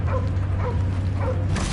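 Cosmo the space dog barks and yips in a Guardians of the Galaxy game, several short woofs spaced out over a loud, steady background rumble of music and action.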